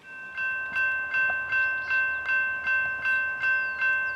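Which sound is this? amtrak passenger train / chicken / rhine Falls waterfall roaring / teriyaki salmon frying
amtrak passenger train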